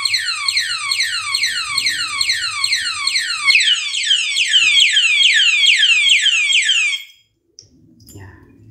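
Motorcycle alarm padlock siren wailing loudly and close, a rapid rising-falling electronic whoop repeating for about seven seconds before cutting off, with faint handling noise and a brief murmur of voice afterward.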